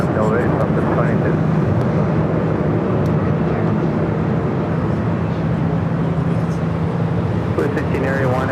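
An airplane takes off at LAX, a loud, steady jet roar with broad rumble that dominates the scene as voices talk over it.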